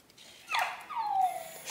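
A robot dog gives a short electronic whimpering yip followed by a longer falling whine, fairly close and clear, heard alone without talk.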